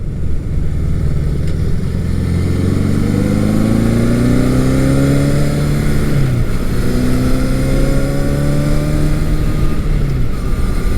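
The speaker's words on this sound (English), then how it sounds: "That 4-cylinder engine is smooth." A Honda CB750 K four-cylinder motorcycle engine runs smoothly and loudly, revving up and down in steady pitch sweeps, close by without any talk.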